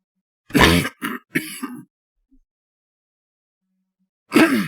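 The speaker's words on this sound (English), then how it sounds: "sorry you had to hear that cough" A single harsh cough bursts out, followed by a couple of shorter throaty coughs, then silence before another rough cough at the end.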